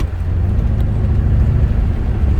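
A 1984 Chevrolet Corvette rolls over small bumps, crevices and ramps, its steady low engine and road rumble loud and continuous from inside the car, with no rattles or clunks standing out.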